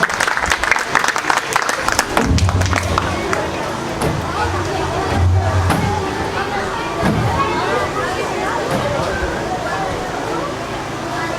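An audience at a welfare trust's independence day celebration and prize-giving ceremony breaks into full, sustained applause, loud and dense, with a voice talking briefly over the clapping near the start.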